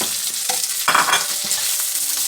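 Minced onion and pork frying in a pan, a steady broadband sizzle with a few stirring scrapes and clinks on top, fairly close and with no one talking.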